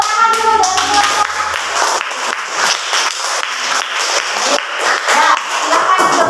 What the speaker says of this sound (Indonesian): Tepuk tangan dulu dari kelompok.